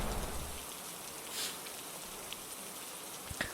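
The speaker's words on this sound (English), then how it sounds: "I feel the raindrops coming down" Steady rain falls as a storm breaks, a continuous close hiss with a few scattered drips and taps and no voices.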